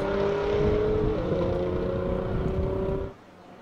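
A Porsche 911S race car drives on a racing circuit, its engine holding a steady, fairly loud drone before the sound drops away abruptly near the end.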